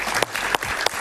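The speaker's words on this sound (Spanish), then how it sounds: "Un aplauso para Paciano." Studio audience applause on a Venezuelan political talk show: a short burst of clapping with a few distinct sharp claps standing out, fairly loud and close.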